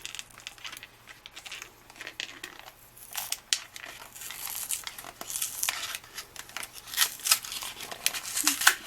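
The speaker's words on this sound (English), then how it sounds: "Peel it open." Crinkling and crackling of a sealed plastic blister package on an N scale model refrigerated container being peeled open, irregular close rustles growing louder and busier toward the end.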